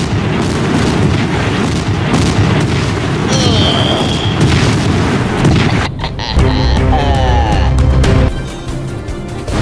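Explosion effect in a homemade fantasy short film: a continuous loud, roaring boom with rumbling bursts that shifts partway through into a thinner crackling blast, with no clear speech.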